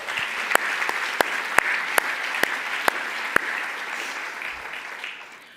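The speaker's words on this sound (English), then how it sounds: "So please join me in giving a warm round of applause to all of our grantees." Audience applause for arts grantees at the 2025 San José Cornerstone of the Arts Awards, a sustained crowd clapping with scattered sharper claps near the start, fading away toward the end.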